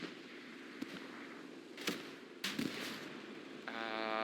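Rocket striking a heavy tank in Hell Let Loose on the Kursk map, a few sharp distant blasts and cracks amid faint battlefield rumble, ending with a rising mechanical whine.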